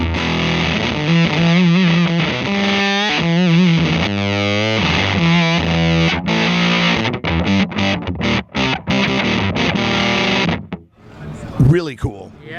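A loud, buzzing fuzz-distorted guitar plays sustained chords and bends, then breaks into choppy stabs before trailing off.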